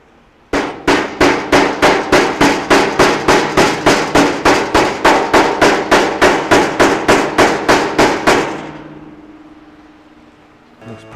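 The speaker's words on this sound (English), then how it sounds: "Then we want to take our hammer." A hammer strikes a metal flange on a 1932 Ford body during a roof chop, about thirty loud, sharp, evenly spaced ringing blows close up, then the ringing dies away into quiet.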